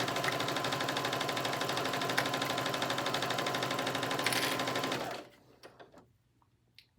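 A sewing machine runs a steady fast stitch along a seam while a T-shirt is made into a cropped jacket. The close mechanical whir stops abruptly about two-thirds of the way through, followed by faint handling sounds.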